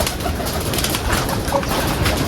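Pigeons coo softly and repeatedly nearby, their low burbling calls overlapping against a faint background.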